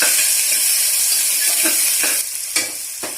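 Potato, eggplant and broad beans fry in a pan, a loud, continuous sizzle that eases partway through, with a few light scrapes and knocks from stirring and no one speaking.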